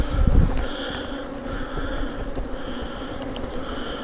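Honeybees buzz steadily and close by around a hive, a continuous droning hum with a brief handling thump at the start.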